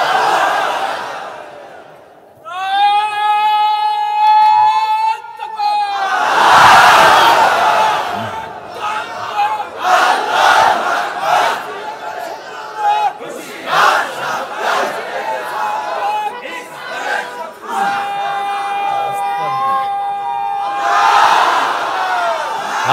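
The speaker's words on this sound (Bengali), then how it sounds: "একটু জোরে তাকবীর বলেন তো" At a Bangla Islamic sermon, a large crowd loudly shouts the takbir in unison, several swelling collective roars that rise and fade, with a preacher's amplified voice between them.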